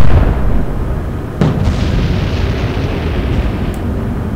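Naval gunfire and a secondary explosion in the Atlantic Fleet naval battle game, Battle of the Atlantic with Great Britain: a loud, continuous rumbling roar broken by one sharp blast partway through, with no talking.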